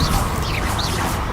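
The Incendio fire spell cast in Hogwarts Legacy: a loud, dense, crackling roar of flame fills the whole short moment, with faint swishing swells on top, close and continuous.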